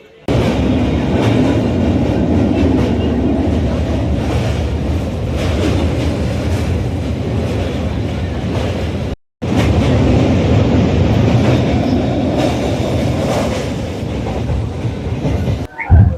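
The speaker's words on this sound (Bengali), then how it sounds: "এখন ট্রেন ঢুকলো ব্যান্ডেল জংশনে" A passenger train rolls steadily toward Bandel Junction, its loud, continuous rumble and rattle heard from inside a carriage, with a brief dropout midway and faint voices at times.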